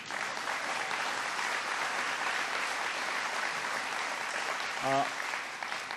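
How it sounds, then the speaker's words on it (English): A large audience applauds steadily at a rural economic forum, a dense wash of clapping that fills the whole stretch at even loudness, with a brief voice breaking through near the end. "Give him a round of applause anyway."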